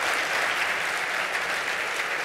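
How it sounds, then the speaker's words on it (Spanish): An audience applauds Eduardo Vibrán at a forum on digital productivity, a steady, even burst of many hands clapping, moderately distant and fairly quiet, with no voices over it. "un aplauso para Eduardo Vibrán"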